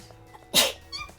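One short, sharp sneeze bursts out close by during video game play, followed by a faint small sound.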